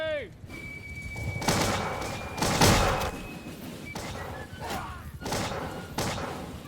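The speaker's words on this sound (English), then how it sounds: "Artillery!" Artillery cannon fire in a Bannerlord battle with the Empires of Europe 1700 mod, heard as several dull thuds and booms rolling through a busy battlefield din, moderately loud, with shouting voices mixed in.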